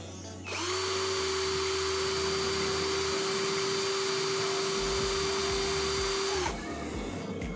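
A budget cordless impact drill resembling a DeWalt, at speed setting 2 (about 1559 RPM): a steady, close high-pitched motor whine starting abruptly, holding constant for about six seconds, then cutting off.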